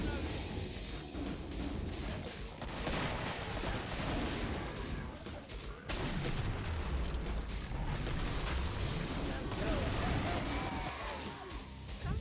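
Gunfire in Killing Floor during a veteran team tournament match, dense bursts of shots and crashes under continuous commentator talk.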